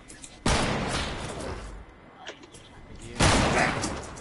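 Heavy sniper rifle shots in a shooter game: two loud booming reports a few seconds apart, each with a rumbling tail, over a busy game background with scattered smaller impacts.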